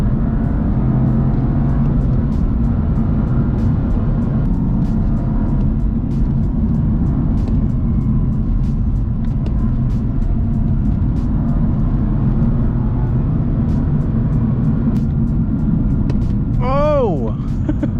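A BMW F80 M3 is driven, heard from inside the cabin as a steady, loud low engine drone and road roar that continues throughout, with a brief rising tone near the end.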